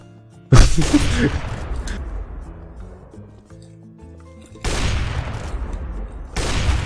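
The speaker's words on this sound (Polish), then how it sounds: "strzelam na oślep tak naprawdę" Gunfire in the video game CS:GO: sharp close bursts of shots crack out early, fade into echoing tails, then two more loud volleys erupt near the end.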